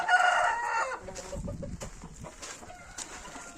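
A rooster crows loudly and close by, its call trailing off into a few softer clucks and scattered farmyard noises.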